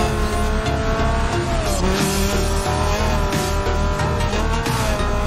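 Racing cars in the video game Need for Speed Most Wanted, engines roaring loud and steady with tire squeal and skids over a constant layer of electronic background music.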